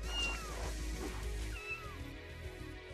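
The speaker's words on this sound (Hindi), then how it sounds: "अरे अरे कितनी प्यारी बिल्ली है सही में" A cat in the video game Spider Fighter Crime City gives two clear, drawn-out meows about a second apart over a low steady hum of background game sound.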